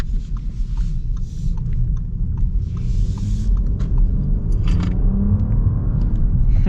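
A 2024 Audi A8 L set to dynamic mode accelerates with a steady, heavy low engine rumble that builds gently, heard from inside the cabin, with faint rattles over the drone and no talking.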